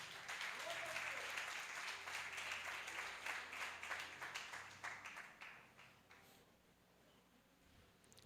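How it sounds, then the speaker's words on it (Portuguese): Church congregation applauding during a doctrine service, a broad wash of clapping that starts strong and gradually thins and fades toward the end, with a faint tone sustained underneath. "Você pode, com gratidão,"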